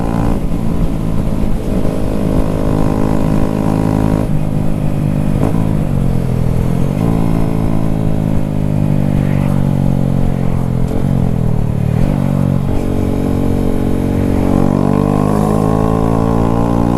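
Honda Grom motorcycle fitted with a Zoom exhaust, ridden with a loud, close engine drone that rises and falls through repeated revs and gear changes, no talking.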